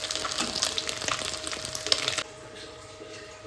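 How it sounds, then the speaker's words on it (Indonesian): Anchovies (teri) frying in oil: a close, busy crackle and sizzle that drops suddenly to a quieter, steady bubbling partway through. "Kita goreng agak rapuh ya teman-teman."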